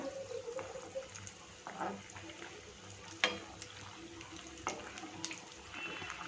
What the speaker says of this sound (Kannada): ಮೀಡಿಯಮ್ ಫ್ಲೇಮಲ್ಲಿ ನಾವು ಇದನ್ನು ಫ್ರೈ ಮಾಡ್ಕೊಳ್ಬೇಕು ಇದನ್ನೆಲ್ಲ ಸ್ವಲ್ಪ ಫ್ರೈ ಮಾಡ್ಕೊಳ್ಳೋಣ